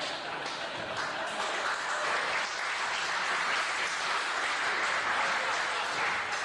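Audience clapping at a political talk, a continuous spread of applause at moderate distance, mixed with crowd murmur and voices throughout.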